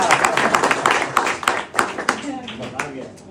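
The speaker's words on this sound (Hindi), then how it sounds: "उसके लिए जोरदार ताली।" Audience applause at a classical music gathering hosted by a music academy, honoring a performer who sang and played tabla; dense, steady clapping that fades toward the end, with some talk over it.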